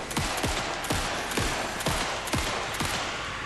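Video game gunfire in rapid bursts, sharp repeated shots roughly twice per second, each with a falling whine, loud and steady throughout with no talking.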